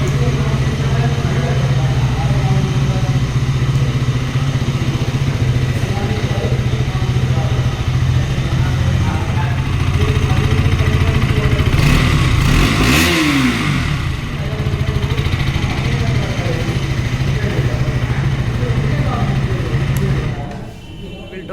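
A 2022 KTM RC 200 motorcycle engine idles with a steady mid-pitched drone, with one brief rev rising and falling midway, close and loud throughout before easing off near the end.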